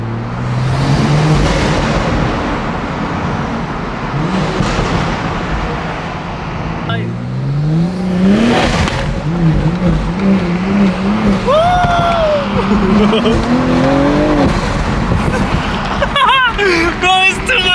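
BMW M340i engine and exhaust pulling through a road underpass, the drone rising and falling with revving and gear changes, loud and close throughout, with someone talking over it.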